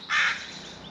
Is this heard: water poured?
no